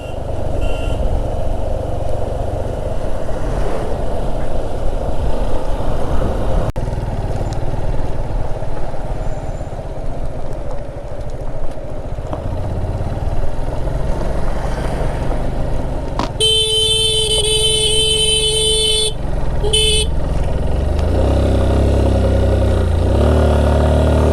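A loaded motorcycle labours up a steep mountain road toward Adi Kailash in first gear, its engine droning steadily and loudly throughout, with a brief burst of electronic beeping and the engine note shifting near the end.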